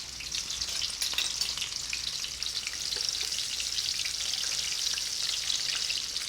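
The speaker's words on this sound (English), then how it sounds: "So you can fry them like this" Steady bright sizzle of food frying in hot oil, a dense continuous crackle close by with a few louder pops, then flipped and set to drain; no voices.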